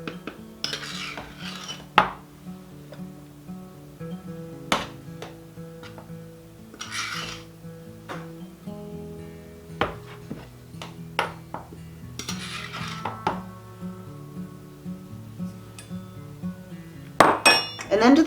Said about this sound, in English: I'm going to measure out my dry ingredients into my kind of smaller bowl here